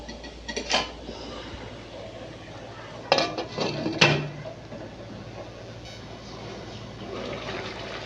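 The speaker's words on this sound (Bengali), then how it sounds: "মাংসটাকে আমি এবার ঢেকে দেব।" A lid set onto a pot of meat cooking without oil, with a few sharp metallic clanks and clatters spaced across a few seconds over a faint steady kitchen background.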